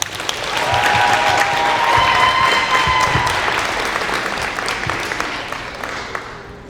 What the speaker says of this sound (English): Please join me in bringing a round of applause for Nicole.